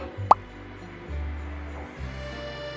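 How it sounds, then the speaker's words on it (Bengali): Boiled potatoes go into hot mustard oil in a wok (kadai), landing with a single soft plop near the start, followed by a quiet, low steady background hum with no voices. "দিয়ে দিলাম আমি সেদ্ধ করা আলুগুলো"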